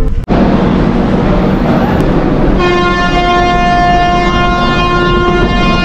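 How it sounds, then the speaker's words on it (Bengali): The Falaknuma Express sounds a long steady horn over the continuous rumble and rattle of the moving train, heard from inside a coach, the tone starting partway through and holding to the end. "ট্রেনের সাইরেনও দিয়ে দিয়েছে, হুইসেল।"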